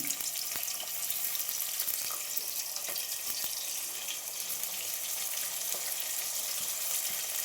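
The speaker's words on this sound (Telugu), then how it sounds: "ఆయిల్ ఇప్పుడు ఆయిల్ వేడైందండి. ఉల్లిపాయలు వేసుకుందామండి." Chopped onions and three green chillies frying in hot oil, giving a steady, close, crackling sizzle that holds evenly throughout with no voices.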